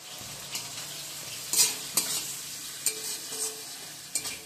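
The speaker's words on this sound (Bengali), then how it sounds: "পেঁয়াজের সাথে আমি একটু হালকা ভাজা ভাজা করে নিচ্ছি।" Garlic paste frying with already-browned onion in a pan, a soft steady sizzle broken by several sharp spatula scrapes and clicks against the pan.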